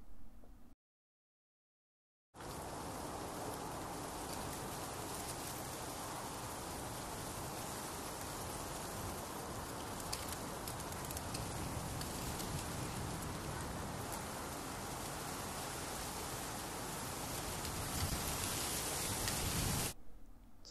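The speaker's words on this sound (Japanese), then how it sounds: "雨音の録音になりますが" Rain captured as an ambisonic recording, a dense, even hiss of falling drops that begins after a short silent gap and then continues steadily at a moderate level, with no one speaking.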